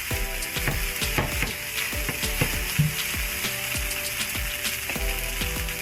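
Curry shrimp fried rice sizzling hard in a hot pan as soy sauce goes in, a steady loud frying hiss with rapid clicking scrapes of a utensil stirring against the pan throughout.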